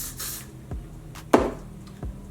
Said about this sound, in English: So I'm gonna take my freeze spray